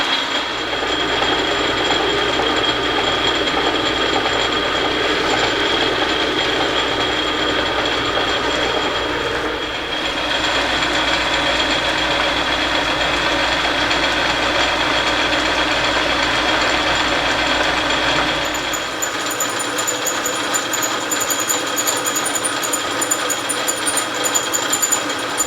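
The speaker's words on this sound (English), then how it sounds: "cutoff and grooving tool. Fairly common insert, and it's designed to cut laterally" A cutoff and grooving insert tool cuts metal laterally, making a loud, continuous grinding roar with a sustained high whine. The tone shifts near the end, close and without voices.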